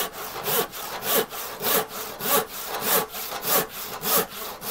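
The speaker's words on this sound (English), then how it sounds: "I'm using the nail of my thumb to get this saw curve started" Hand saw cutting through wood on a saw bench, with steady rhythmic strokes, about nine even push-pull rasps, close and clear with no talking.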